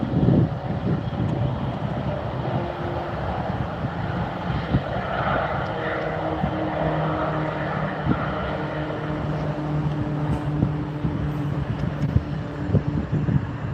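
A jet taking off at Teterboro Airport, a broad, sustained engine roar that holds steady and fills the air, heard from outside with wind-like rushing.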